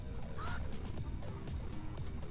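A chicken in the video game Ben and Ed clucks and gobbles repeatedly in short bursts. The bird calls sit over a loud, constant low rumble of game noise with no talking.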